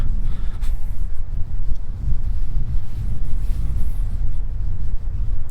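Low, rumbling wind buffeting a Rode microphone outdoors in Sofia in winter, continuous and gusty throughout with no one speaking.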